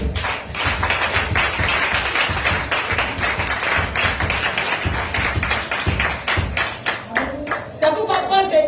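A church congregation at a Sunday service claps enthusiastically in acclaim of Jesus, a dense, steady patter of many hands over several seconds with voices mixed in, thinning out near the end.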